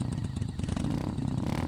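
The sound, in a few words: motorbike riding on a forest road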